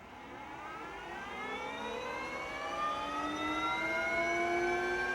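An ebike motor accelerates in third gear, a rising electric whine with several harmonic tones climbing steadily in pitch and growing slightly louder over a few seconds, with no voices.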